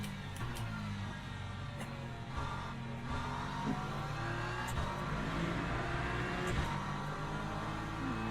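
Race car engine of an LMP3 prototype in the sim racing game Le Mans Ultimate, lapping Imola in a multiclass field, droning steadily with rising and falling revs and occasional gear-change breaks throughout.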